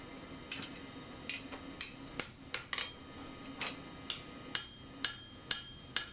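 A blacksmith hammers a penny end scroll on an anvil block, squaring it off with a series of sharp, ringing metallic strikes at an irregular pace, fairly faint and close with quieter taps between.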